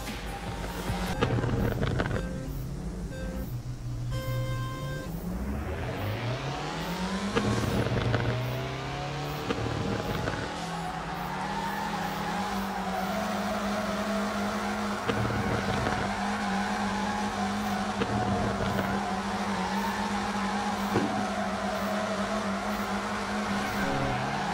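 A racing car in the FR Legends drifting game revs hard, with the engine note climbing and sweeping while the tires squeal and skid through corners, loud and continuous for the whole run.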